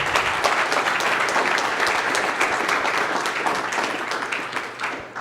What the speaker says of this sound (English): Let's give the panel a big round of applause.